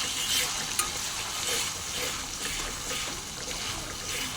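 Garlic, cumin, green chilli and onion pastes sizzle steadily in hot oil as they are stirred for a pabda fish curry, a dense close frying hiss with faint scraping, no talk.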